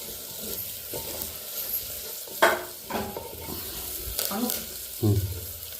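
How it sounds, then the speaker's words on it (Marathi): Curry leaf water is poured into a hot pot for a clay-pot chicken curry, setting off bursts of sizzle and splashing over a constant frying hiss, with a few louder spatters and scrapes. "कढीपत्त्याचे पाणी टाकून घेतो"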